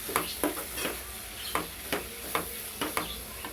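A spoon stirs cluster bean curry in a pan after the lid comes off, giving several evenly spaced scraping strokes over a low sizzle, close and fairly loud, with no talking.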